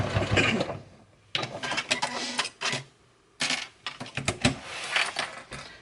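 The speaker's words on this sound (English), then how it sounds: "I'm sewing 1/4 inch seam allowance, and reversing my stitch at the end as well" A sewing machine stitches a quarter-inch seam on a small make-up bag, running in several bursts separated by short pauses, with the final burst reversing at the end of the seam; the mechanical whir is close and fairly loud.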